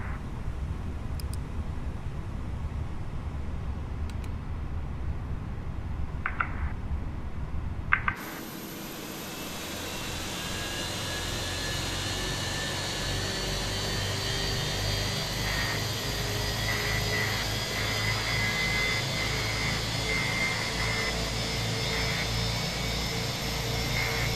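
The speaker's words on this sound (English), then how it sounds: "Let's start up engine number 1 first." An Airbus A320 jet engine starts up in Microsoft Flight Simulator, beginning after a few faint cockpit clicks with a sudden broad roar and a rising whine that climbs steadily and holds loud and continuous to the end.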